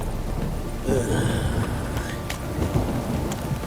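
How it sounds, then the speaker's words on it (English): Steady rain in The Witcher 3 video game with a low thunder rumble building in the background, a continuous wet hiss throughout. "This downpour's a bastard,"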